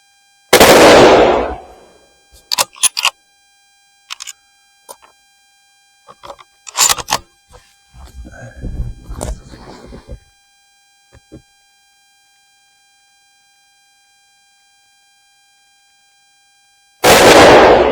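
Shots from a .243 Winchester Remington 700 BDL rifle fired off a shooting bench, two loud sharp cracks spaced far apart, with quiet handling clicks and rustling between them.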